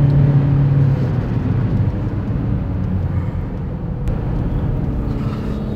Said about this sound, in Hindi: So again I am going to kick down and see the pickup. सी कहाँ तक गियर होल्ड कर रहा है, मैंने पूरा थ्रॉटल दिया हुआ है